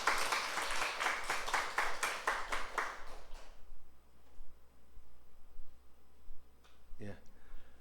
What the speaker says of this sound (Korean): 오늘 새롭게 오신 분들에게 환영하는 박수 보냅시다.